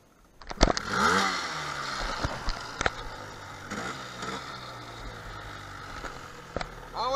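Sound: motorcycle engine cranked and started

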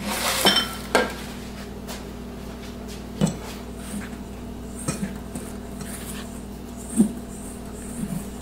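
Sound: mixing brownie batter with flour in a bowl

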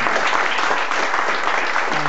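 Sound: applause

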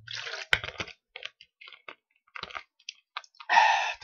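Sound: swallowing a sip of water

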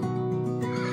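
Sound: horse neighing

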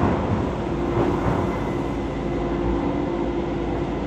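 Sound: train departing

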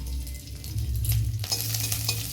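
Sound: ginger, green chilli and panch phoron frying in oil

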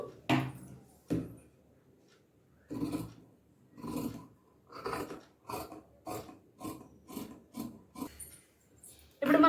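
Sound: cutting the back piece of blouse fabric

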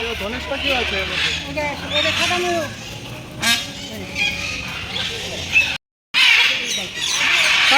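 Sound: birds calling at a zoo

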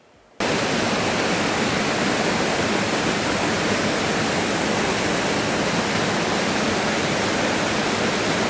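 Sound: rushing water near a high waterfall

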